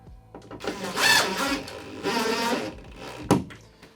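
Power screwdriver driving a screw into a fixed flat wall-mount bracket for an LG OLED C2 TV, two whirring bursts of motor and screw bite, close and fairly loud, followed by a short sharp knock.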